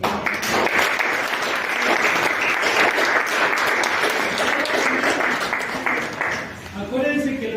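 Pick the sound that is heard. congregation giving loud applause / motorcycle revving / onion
congregation giving loud applause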